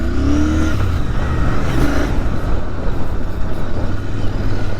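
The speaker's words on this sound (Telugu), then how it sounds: "బీటింగ్ మాత్రం సూపర్గా ఉంది ఎగ్జాస్ట్ సౌండ్" A Royal Enfield GT 650 motorcycle engine idles and revs with a deep, throaty exhaust beat, loud and close, running steadily throughout.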